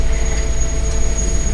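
Steady rumble of a KRL commuter train riding the Jogja–Solo line between Lempuyangan and Purwosari, heard from inside the carriage, with a continuous low roar and a faint high whine throughout, no talking.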